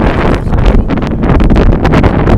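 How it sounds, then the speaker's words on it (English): Strong wind buffets and roars across the microphone in continuous gusts at an outdoor high school softball game, loud and close, with no voices. "Windy day."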